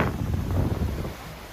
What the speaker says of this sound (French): Et on a beaucoup de vent.